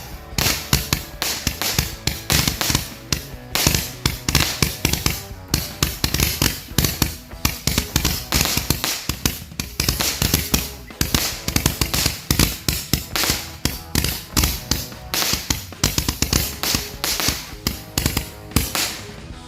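Mercon Dynamic VMAX firecrackers, a roughly 100,000-rupiah string set off for Indonesian Independence Day celebrations, crackle in a long dense barrage of rapid sharp bangs that continues nonstop at close range.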